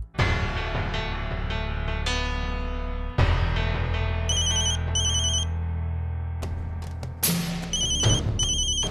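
An incoming call sets a phone ringtone playing, loud and continuous: a repeating electronic melody with bright chiming tones layered on top, and no voices.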